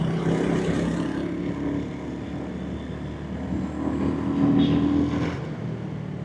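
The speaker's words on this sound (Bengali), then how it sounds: "বাইকের সাউন্ড মাথা নষ্ট" A motorcycle cruises along a highway on a long-distance ride in Bangladesh, its engine a steady, close droning hum with rushing wind noise that swells slightly toward the end, with no talking.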